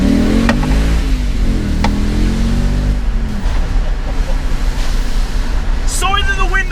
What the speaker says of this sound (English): Sorry that the windows are down, but I cannot get enough of that V8 sound.